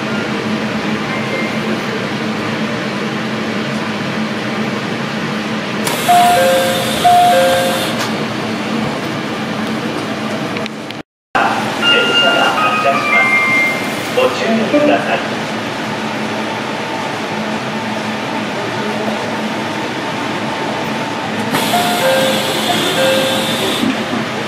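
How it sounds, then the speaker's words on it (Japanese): A train pulling out of Kanayama station, heard from inside the carriage as a steady loud hum of ventilation and running gear, with brief electronic chimes and tones rising over it, a sudden short cut midway, then the drone resumes. "電車は金山駅を発車しました。"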